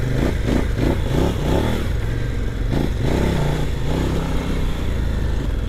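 A KOVE 800 Adventure motorcycle engine rumbles steadily while riding, with the throttle closed so engine braking holds it back; the loud, continuous drone rises and falls in pitch alongside road and wind noise, with no talking.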